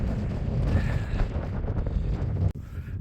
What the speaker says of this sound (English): that wind just isn't giving in